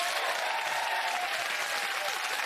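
Studio audience on a comedy show applauding steadily, a dense wash of clapping with no breaks over a couple of seconds.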